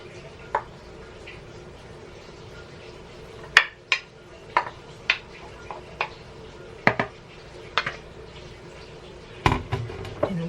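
Utensils clinking against bowls as crab meat is portioned out for a quick pasta salad, a series of sharp, separate taps and scrapes spread across the stretch over a quiet room background.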